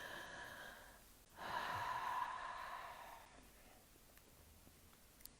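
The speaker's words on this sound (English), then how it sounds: "And just take deep breaths." One slow, deep breath during a guided breathing exercise rises and fades softly in a quiet room, with no talking.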